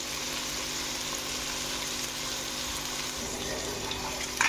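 Beans and carrot pieces cook in hot oil with a steady, hissing sizzle throughout, fairly quiet and continuous, with a brief clatter near the end.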